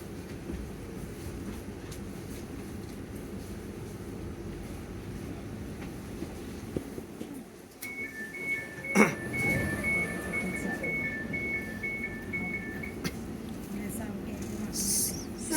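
An Elizabeth line train running towards Heathrow, a steady low rumble of the carriage with rail noise, a faint rising tone and a brief sharp clack partway through, recorded quietly from inside.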